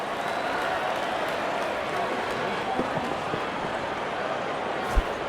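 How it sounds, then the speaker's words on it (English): Stadium crowd in Real Cricket 24 cheering a bowler's wicket celebration during India vs Australia, a dense steady roar of applause and noise held evenly, with a single sharp thump near the end. "And there comes the celebration, and the crowd loves it."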